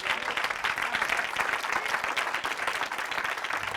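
Steady, even applause from a studio audience on a French television talk show, a dense wash of clapping held at moderate level throughout the short stretch.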